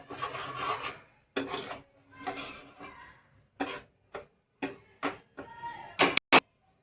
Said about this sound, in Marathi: पूर्ण मिक्स करून घ्यायचं छान असं.